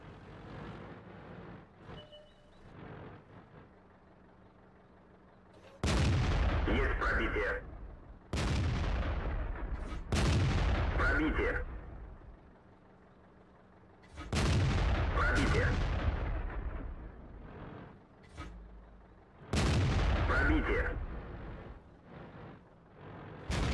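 Tank cannon fire in World of Tanks from an SU-85I: five heavy booming shots, each a sharp loud blast with a long rumbling tail, spaced a few seconds apart over quiet engine hum.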